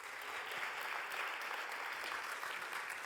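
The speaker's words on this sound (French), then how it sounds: "Je vous demande de l'applaudir." Conference audience at a women-in-tech colloquium applauds Danielle Jordao of SAP, a steady, dense wash of many hands clapping across the whole moment with no voices over it.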